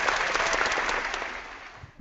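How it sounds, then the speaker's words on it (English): A short applause sound effect played during a sports talk stream: dense, even clapping and cheering throughout, ending in a small thump. "We had to bring in the applause yet again, just for you."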